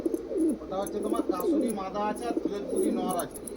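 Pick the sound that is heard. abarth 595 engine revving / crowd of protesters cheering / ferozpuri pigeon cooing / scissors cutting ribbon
ferozpuri pigeon cooing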